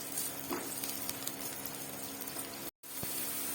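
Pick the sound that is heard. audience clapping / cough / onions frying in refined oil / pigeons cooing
onions frying in refined oil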